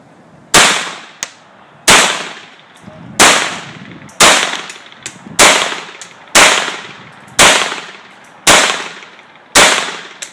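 A Colt 1911 Rail Gun .22 LR pistol fires CCI Mini Mag 36-grain high-velocity hollow points: about nine loud, sharp shots spaced roughly a second apart, each with a brief ringing tail outdoors.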